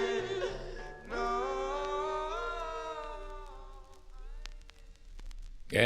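A 1962 doo-wop record ends on sustained, layered vocal harmonies over a soft backing, holding one long chord before fading, with a brief sound at the very end.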